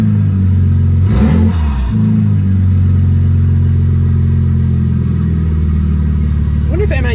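A BMW N54 engine built with DIY forged internals runs steadily at a loud idle, with a brief rev rising and falling early on, while a person talks over the engine noise.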